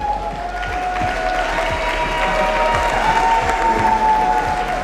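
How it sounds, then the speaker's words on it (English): Sustained applause from an audience at the Revision 2024 demoparty event, honouring nominees and laureates, steady and fairly loud for the whole stretch, with a faint tonal whine running underneath. "Please make some big applause for all our nominees and laureates this year."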